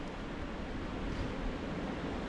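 Strong night wind at a riverside campsite, a steady broadband roar buffeting the microphone, loud and close, with no voices.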